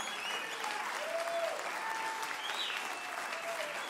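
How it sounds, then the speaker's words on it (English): Congregation in a Nigerian church service giving a steady, dense round of clapping, fairly loud and continuous throughout with a faint crowd murmur beneath. "Give him a very big God bless you clap."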